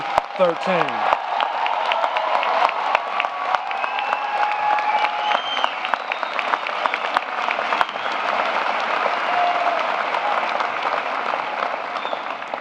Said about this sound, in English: Please give one final round of applause to the class of 2013.